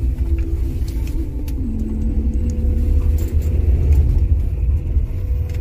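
Several cars travel in a convoy along a road, a steady low rumble of engines and tires rolling past without pause, swelling slightly toward the middle and carrying some mid-range engine drone.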